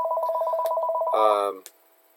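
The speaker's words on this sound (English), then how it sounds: "So, ignore that phone." A telephone rings nearby with a rapid, warbling electronic trill that pulses evenly and loudly before cutting off, as a person's voice starts speaking over the last part of the ring.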